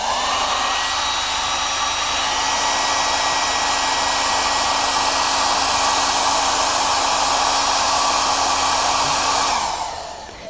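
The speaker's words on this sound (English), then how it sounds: "as Mike's going to do with the hairdryer" A loud hair dryer blows steadily at close range for about ten seconds, then winds down as it is switched off.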